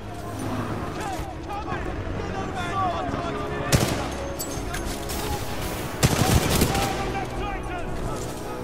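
Sustained gunfire and machine-gun bursts rattle steadily as pilots lay down supporting fire in Titanfall 2, with two sharper, louder blasts standing out, under a faint talking voice.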